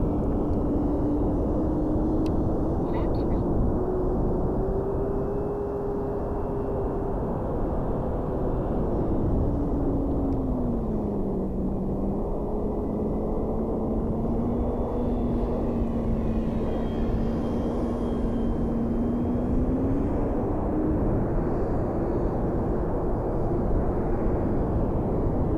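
A radio-controlled E-flite P-51 Mustang model airplane drones steadily overhead, its engine pitch rising and falling as it passes and banks, loud and continuous with no voices.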